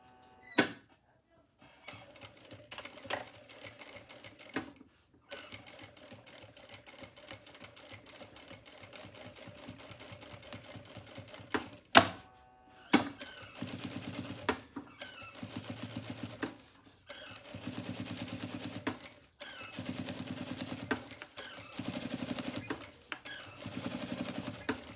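A sewing machine stitching a small triangular bag makes intermittent runs of quiet, rapid ticking and whirring, broken by clicks, handling noise and short gaps.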